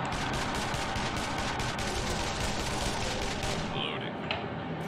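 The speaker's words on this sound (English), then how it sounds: "I feel like someone's using pistol." Rapid gunfire in the video game Breach & Clear: Deadline Rebirth, a steady crackle of overlapping shots with a dense noisy bed underneath and a brief sharper effect near the end.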